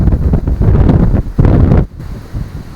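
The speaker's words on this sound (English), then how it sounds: "certainly better on a day when the wind's not so strong" Strong gusts of wind roar across an open churchyard lined with headstones and big trees, buffeting the microphone in loud, rumbling surges that drop away sharply near the end, with no talk.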